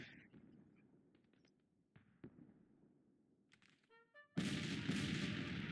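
Artillery cannons firing in the Civil War strategy game Grand Tactician, a scattering of distant booms and faint cracks followed by a sudden loud, sustained roaring barrage.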